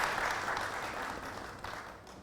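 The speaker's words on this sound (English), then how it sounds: "So please everyone, a huge round of applause for Sir Khurram" Audience applause at an AI in HR expert panel discussion in Lahore, a brief burst of many hands clapping from a room of people, moderately loud and gradually fading.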